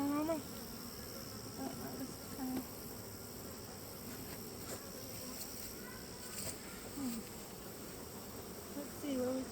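Honeybees swarm around an opened homestead hive during an inspection, a steady close buzz that holds throughout, with individual bees whining past the microphone now and then.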